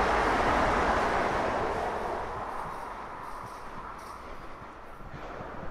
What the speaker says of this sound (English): There's a train right now.